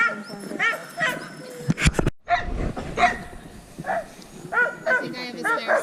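Sled dogs in a snowy Lapland camp bark, yip and whimper excitedly in overlapping bursts, close by and fairly loud, while people talk among them during harnessing.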